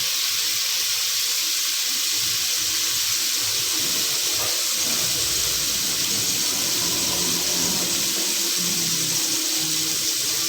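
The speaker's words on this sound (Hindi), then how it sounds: "अब इसमें हम पानी शामिल करेंगे।" Water is poured into a cooking pot holding onions, a continuous steady hiss and rush of water lasting several seconds with no talk.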